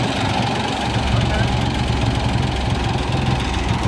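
A tractor engine, choked to get it going, idles roughly with a low, uneven chugging close by, steady throughout the few seconds without clear speech.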